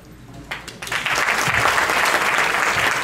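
Listeners at a classical Indian music festival applaud Amod after his teentaal composition, a few scattered claps swelling within a second into loud, steady applause.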